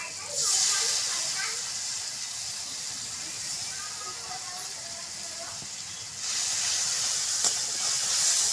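Water splashed into a pan of frying spice paste for a village-style Bengali curd pointed gourd dish, giving a loud steady steam hiss that surges at the start and again near the end.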